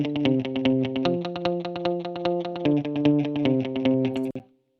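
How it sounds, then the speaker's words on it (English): A fully wet delay echo effect with the mix set to wet, applied in a multi-mono delay setup: a dense, buzzy, distorted tone pulses in rapid repeating echoes, shifting pitch a few times before cutting off abruptly. "So we only want to be hearing the echo parts on this, and that's what the mix set to wet does."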